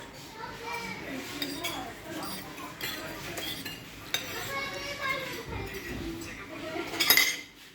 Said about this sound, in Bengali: আমরা এখন অবস্থান করতেছি ঢাকা বসুন্ধরা সিটিতে একটা চাইনিজ রেস্টুরেন্টে